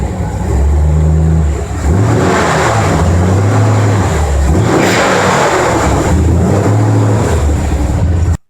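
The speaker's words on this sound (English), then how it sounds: "I need to fire up the old F100." A Ford F100 truck with a 289 V8 and a rebuilt Autolite 4100 carburetor runs loud and close, its engine rising and falling through several revs and cutting off abruptly at the end.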